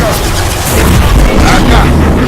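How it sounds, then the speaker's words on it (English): An impact gun fires in the sci-fi shooter Mass Effect 2, a loud, dense burst of booming blasts that fills the whole clip amid combat noise. "Firing impact gun!"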